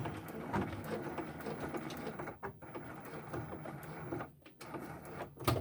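A sewing machine whirs in short close runs as it back tacks a seam and a line of embroidery on a fabric mask, pausing briefly between passes with no talking.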